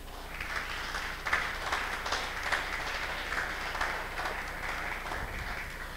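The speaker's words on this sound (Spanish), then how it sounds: "Dale un aplauso al que vive." Applause from a church congregation, steady and moderately distant, a broad wash of clapping that holds through the whole stretch with faint talk mixed in.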